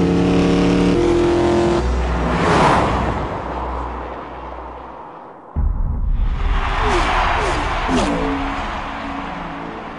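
A Ford F-150 EcoBoost pickup is driven at Homestead Miami Speedway, its engine roaring loud and steady, fading briefly mid-way before surging back close and strong.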